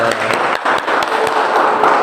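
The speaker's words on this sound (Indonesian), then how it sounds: "Tepuk tangan dulu." Students in a university classroom applauding, a short burst of dense, close clapping with sharp taps under faint voices.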